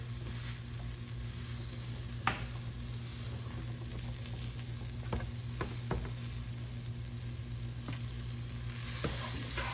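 Rice frying in a pan for Mexican rice, a steady soft sizzle with occasional stirring scrapes and clicks, close and moderately quiet with no talking.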